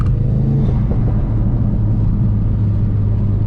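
A Ford Focus RS engine drones steadily at close range as the car drives, a loud, continuous low rumble with a slight rise in revs and no talking over it.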